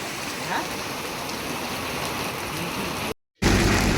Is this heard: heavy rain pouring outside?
yes